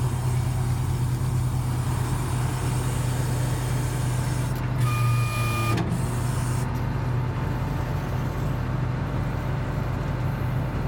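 Steady close mechanical drone of an American LaFrance 1500 gallon per minute pumper fire truck as its 50 ft Tele-Squirt aerial boom rotates, with a brief two-tone beep partway through.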